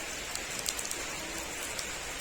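The year's first rain falls in a steady, dense hiss on nearby surfaces, with scattered drop taps standing out and no voices.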